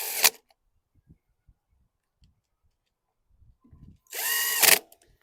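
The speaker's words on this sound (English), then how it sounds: "Since I've got the 7mm socket still on my DeWalt, we'll do the screws into the plastic first." A DeWalt drill fitted with a 7mm socket drives screws into the plastic parts of a 2018 Troy-Bilt TB210 walk-behind lawn mower. Two short, close whirring bursts come at the start and near the end, with quiet handling noises between them.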